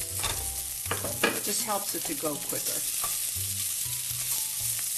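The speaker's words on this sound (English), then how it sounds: "And as soon as the onion hits the oil, it smells so good already." Diced onion and a small pre-cooked potato sizzle and crackle steadily in hot oil in a frying pan, with occasional stirring, while a person talks over the cooking.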